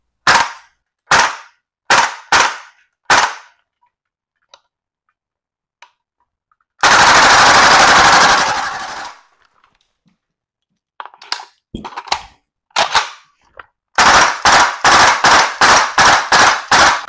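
A VFC AK74M gas blowback airsoft rifle fires sharp, snappy cracks: single shots, then a long full-auto burst, scattered shots and a final rapid string, loud and close with silent gaps between.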